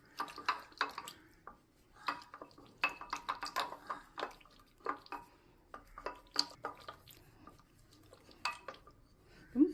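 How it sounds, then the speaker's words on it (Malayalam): Curd being whisked in a bowl to break up lumps, for a Trivandrum-style pumpkin pachadi. Quick irregular clinks and scrapes of a utensil against the dish come in uneven bursts at close range, with no talk. "തൈര് എടുത്ത് വെച്ചിട്ടുണ്ട്. അതൊന്ന് നന്നായിട്ട് കടഞ്ഞ് കട്ടയെല്ലാം കളഞ്ഞെടുക്കാം."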